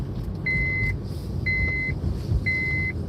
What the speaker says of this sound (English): I'll fix the seatbelt alarm in a minute when we get there